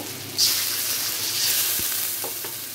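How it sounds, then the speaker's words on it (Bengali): Spice paste fries steadily in a pan with a continuous, dense sizzle and a few soft stirring knocks toward the end, close and fairly loud. "মশলাটা ভাজা ভাজা হয়ে গেছে"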